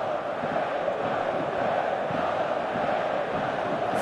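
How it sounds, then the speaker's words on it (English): A steady, distant roar of a stadium crowd from a football match in PES 2019, constant and even throughout with no clear cheers or peaks. "Crowd calling for him to shoot."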